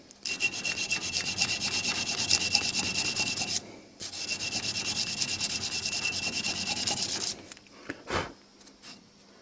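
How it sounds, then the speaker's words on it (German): Fine sanding of wood with sandpaper while making a folding knife: quick, even rasping strokes in two long bursts, then a pause and a few scattered scuffs, close and alone. "Noch fein schleifen."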